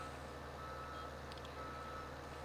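Reversing beeps from a truck in Farming Simulator 17, a steady repeating warning tone over constant low engine rumble, fairly faint and continuous with no talk.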